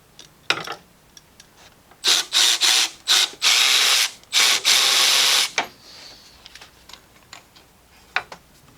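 A ratchet wrench works bolts loose on a Jeep Grand Cherokee's 3.6L Pentastar engine, with several bursts of rapid ratcheting clicks near the middle and scattered metallic taps and clinks before and after.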